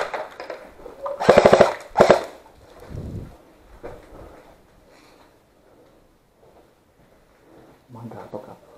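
Airsoft guns fire during a gameplay match in and around a house, with rapid snapping bursts around one to two seconds and scattered shots afterwards, while players talk.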